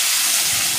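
Water poured into hot oil with fried potatoes, dried chilli and five-spice seeds, bursting into a loud, dense hiss and sizzle that fills the whole brief moment.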